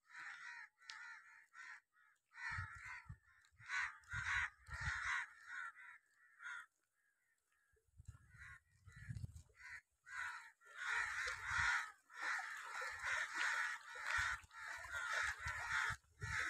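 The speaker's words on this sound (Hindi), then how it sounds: "सिर्फ कौए ट्रैं ट्रैं कर रहे" Crows cawing repeatedly along a quiet, deserted rural road, harsh calls in irregular bursts, some overlapping, fairly close and loud against near silence.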